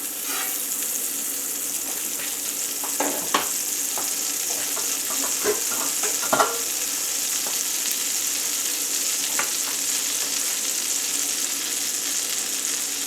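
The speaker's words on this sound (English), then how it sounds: "Now to our pan on medium heat, I'm going to add just a touch of butter." A touch of butter sizzles in a pan on medium heat, a steady soft crackling hiss with a few sharper pops and spits scattered through, close and alone without speech.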